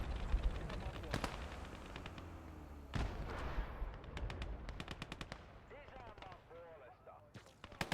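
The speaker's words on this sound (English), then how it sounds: "now he's firing his AT gun at us" Gunfire in the Gates of Hell: Ostfront war game, with an anti-tank gun firing among repeated sharp shots and bursts of small-arms fire over a dense, noisy battle background.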